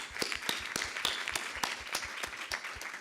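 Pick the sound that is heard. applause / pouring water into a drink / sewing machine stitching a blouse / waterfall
applause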